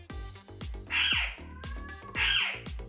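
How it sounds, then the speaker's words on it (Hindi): A pet parrot lets out two loud, harsh squawks close by, about a second apart, with shorter chattering calls and clicks between them indoors. "बिल्ली और हमारा तोता दोनों ही टाटा कर रहे हैं"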